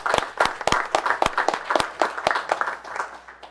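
Scattered applause at a Haltom City council meeting honoring the Beautification Board: a small group clapping in an uneven, fairly sparse rhythm, sharp individual claps standing out near the front, fading slightly toward the end.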